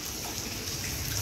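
Small waterfall cascade on a Paris walk from Bastille to Porte de Charenton, a steady close rush of splashing water with no break and no talk.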